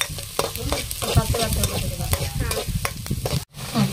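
Chopped onions for pav bhaji fry in a hot pan while being stirred, giving a steady close sizzle broken by repeated scraping spoon strokes, with a brief pause just before the end.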